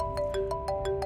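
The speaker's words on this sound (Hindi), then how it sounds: "फोन आ रहा है।" A phone ringtone chimes in a quick repeating pattern of short electronic tones, fairly loud over a low background hum.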